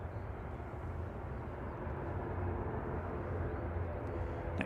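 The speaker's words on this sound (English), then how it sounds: "Next in is the Indigo operated by Norse LNR 787-9 Dreamliner for coming in from Mumbai" A distant IndiGo Boeing 787-9 Dreamliner arriving at Manchester Airport, a broad steady jet roar that stays constant and moderately faint outdoors, with no talking.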